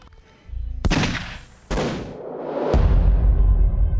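A pistol fires in a tense drama scene: a sharp loud crack, then a second blast moments later, followed by a low rumbling tail.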